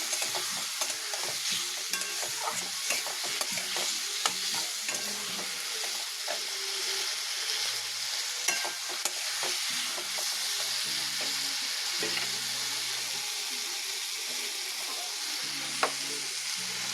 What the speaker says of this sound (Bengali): মশলাটা অল্প কষানো হয়ে গেছে